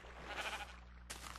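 A sheep in the video game Minecraft bleats once, quiet and wavering, and a brief airy noise follows at the end.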